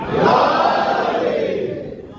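A large religious majlis congregation at a Shia imambargah shouts a loud collective slogan in unison as a response, a dense swell of many voices that peaks early and slowly fades.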